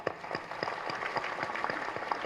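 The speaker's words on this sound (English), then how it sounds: "Give her a big clap." Faint, steady audience clapping at a felicitation ceremony for civil service exam toppers, a soft even patter of many hands heard from a distance.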